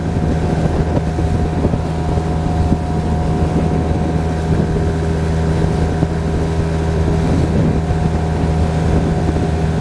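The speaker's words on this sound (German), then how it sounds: "Und das ist halt der, die Geschwindigkeit, die mit 6 PS und zwei Personen mit dem Schlauchboot machbar sind." A 6 hp outboard motor drives an inflatable boat carrying two people at planing speed, a loud, steady engine drone close by with rushing water and wind buffeting the microphone.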